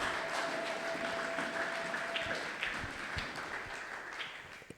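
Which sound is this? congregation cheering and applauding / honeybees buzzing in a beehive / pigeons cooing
congregation cheering and applauding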